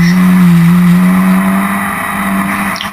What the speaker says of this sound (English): he's coming back on Mansell up the hill, up towards Druids